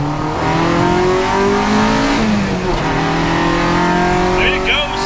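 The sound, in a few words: Honda car accelerating hard up a hill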